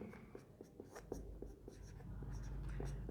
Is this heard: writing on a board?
yes